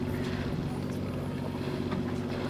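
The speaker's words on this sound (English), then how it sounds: "the sound of the generator right now, because our autopilot was draining our batteries too much" A boat's onboard generator runs at sea on a calm overnight sail, powering the autopilot: a steady, loud low drone with layered hum bands that holds constant throughout, with no talk.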